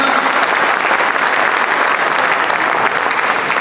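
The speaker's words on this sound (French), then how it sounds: "Le bruit pour Makaba, notre enfant de l'Alma" A large audience at a municipal election campaign rally in Roubaix applauds and cheers, a dense, steady wall of clapping that holds loud from start to finish.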